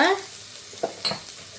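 Chopped garlic dropped into hot oil in a pan for Sri Lankan devilled prawns, a short fizzing sizzle at first that settles into quiet crackle with a few light stirring clicks.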